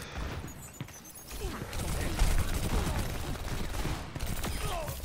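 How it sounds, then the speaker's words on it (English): Overwatch gunfire in a dense, continuous match fight, with rapid shots and effects overlapping for several seconds at steady loudness, mixed with scattered game sounds. "Dude, why are you shooting me?"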